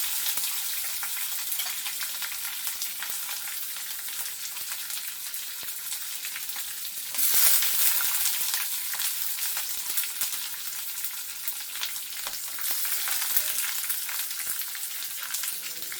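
Onions with roasted peanuts, salt and turmeric fry in a pan, a continuous bright crackling sizzle that stays close and steady, briefly growing louder and hissier, with no voices.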